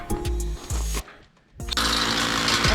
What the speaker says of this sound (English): Drilling into the concrete.